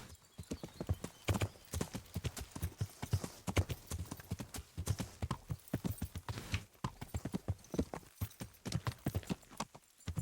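Horse hooves clip-clopping steadily in the medieval game Kingdom Come: Deliverance, a dense, close rhythmic trot running the whole stretch, with a brief whinny and faint background noise.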